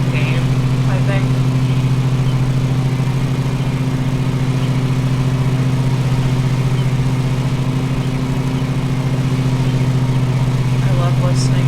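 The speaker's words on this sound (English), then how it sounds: "Every lawnmower is a different engine sound" Lawnmower engine from the video game Lawn Mowing Simulator runs at a steady, loud drone with a constant low hum that holds unchanged throughout.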